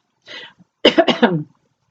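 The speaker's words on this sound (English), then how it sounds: "Coughing." A short cough followed by a quick burst of two or three harsher coughs, close and clear against silence.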